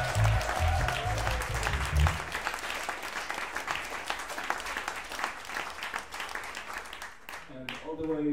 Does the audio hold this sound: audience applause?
yes